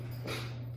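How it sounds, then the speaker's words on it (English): A short burst of dog noise, a yelp or growl from a scuffle, sounds faintly in the background over a steady low hum. "If you hear anything, that's my dogs fighting in the background."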